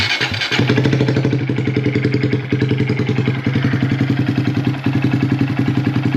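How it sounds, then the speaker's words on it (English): A 2024 Honda Grom motorcycle idles right after an oil change, its small single-cylinder engine chugging in a steady, fast, even pulse, close and clear with no talking. "start the bike and just let it run"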